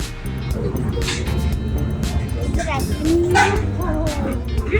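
Dogs yip and bark in short, excited bursts on a stretch of the California coast along Route 1, mixed with other noisy background sound and nearby voices.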